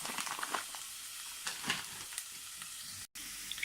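Minced meat sizzles and fries in plenty of oil with onion in a pan, a steady close hiss with faint stirring clicks and no talk.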